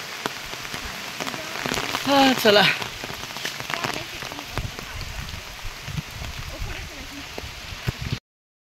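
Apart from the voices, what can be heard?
rain falling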